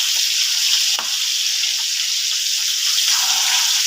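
Dried fish fries in a pan with a loud, continuous hiss and crackle close by, holding steady throughout with one brief bump and no talking.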